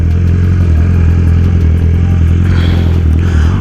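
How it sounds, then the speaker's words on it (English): A 2020 BMW motorcycle fitted with an Austin Racing exhaust rumbles very loud and close, a deep throbbing idle with a rapid mechanical clatter running through it and a slight rise in revs near the end. "this pipe is so doggone loud, man"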